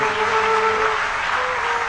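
An audience at a Ram Katha religious gathering claps in a sustained, even roar of applause, with a faint tonal hum running underneath and no speech.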